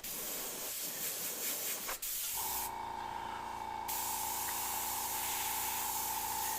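An airbrush sprays paint onto a saber tooth skull, a close, steady hiss that briefly stops and then resumes as a smoother, constant spray.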